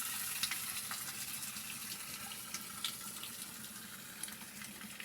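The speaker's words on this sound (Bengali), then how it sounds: "এই যে একদম মাটির নিচ থেকে, যেটা আমাকে বললো ওরা, এই জল বেরিয়ে আসছে" Water flowing out of a hollow in the ground at a spring near Nathan village in the Manali hills of Himachal, a steady close wash of running water with a few small splashes and no talk.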